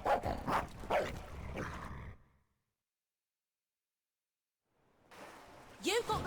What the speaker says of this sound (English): my dog was growling for something